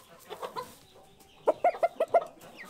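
Hens and a rooster on a Canadian homestead farm cluck in a quick run of five or six loud, close calls, preceded by softer scattered clucks and faint background chatter.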